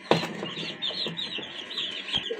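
Desi hens on a Punjab poultry farm cluck steadily, with a brief knock at the start and a faint flutter, close by and without talk.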